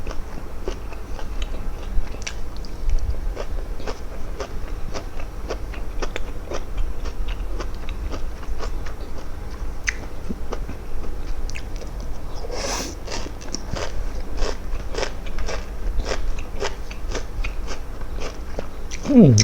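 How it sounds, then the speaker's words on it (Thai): Someone eats blanched bitter gourd up close, each bite a crisp crunch followed by steady rhythmic chewing that runs the whole time, with small mouth noises and no clear speech. "กรอบดีแล้วครับ มะระมันลวก"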